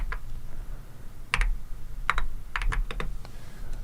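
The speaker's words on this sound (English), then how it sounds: "everybody sees how terrible my typing is on this mechanical keyboard" Keys clack on a mechanical keyboard in scattered bursts of quick, sharp clicks with pauses between them, close and clear, with no one speaking.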